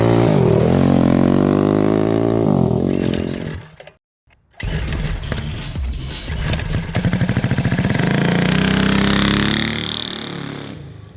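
A 190cc five-speed shifter cross kart engine runs loud and close, revving up and down through its gears. It cuts out briefly, then starts again and roars steadily.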